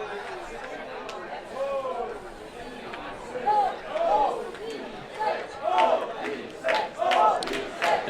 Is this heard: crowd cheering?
yes